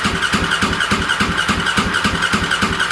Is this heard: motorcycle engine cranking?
yes